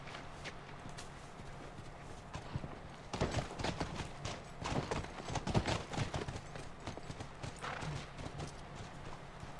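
Horse hooves clip-clop in the game The Last of Us, starting with a few sparse steps, then a dense run of rapid clattering strikes mid-clip before easing to scattered steps, moderately loud with ambient outdoor noise.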